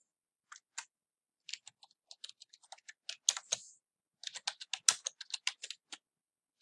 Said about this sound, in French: Et je peux taper quelque chose